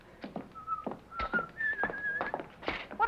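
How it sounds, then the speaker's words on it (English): Someone whistles backstage, a close, clear tune of short and long held notes in several phrases over about three seconds, with a few soft knocks and clatters in the background. "Whistling backstage."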